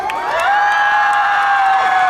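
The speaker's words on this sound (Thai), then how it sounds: "ขอเสียงปรบมือให้กับทุกกคนเลยครับ" A large crowd cheers and screams loudly and continuously at a live promotional event, with high-pitched shouting sustained throughout and no clear talk.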